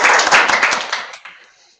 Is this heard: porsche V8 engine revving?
no